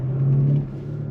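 Audi A6 Competition with a 3.0 V6 engine gives a short, close, low rumble that holds steady, then eases to a quieter idle.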